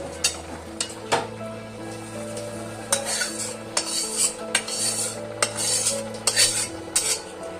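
Cooked masoor lentil masala is scraped and tipped from a wok into a cooking pot, giving a run of close metal clanks and scrapes with sharp knocks of a utensil against the rim, and no talking.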